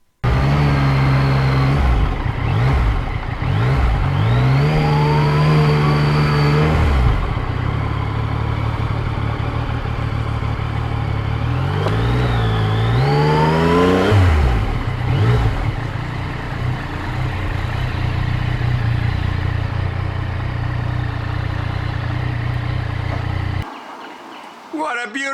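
A 2020 Yamaha MT-09 motorcycle's engine drones steadily while riding, rising and falling through several revving gear changes, loud and close throughout, with a brief bird chirp in the background.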